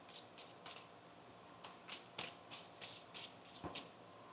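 Quiet card shuffling, a series of soft riffling bursts and taps at irregular intervals, close by with no talking.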